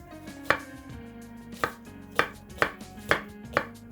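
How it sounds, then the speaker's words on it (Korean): A kitchen knife roughly mincing green onion on a cutting board, six sharp chops at an uneven pace, close and clear with no talking. "그냥 대충 다져주시면 되겠습니다."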